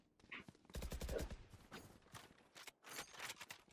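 Gunfire in the video game Valorant sounds as rapid bursts of fairly faint, close-set shots in short clusters, separated by brief pauses and mixed with other game noises.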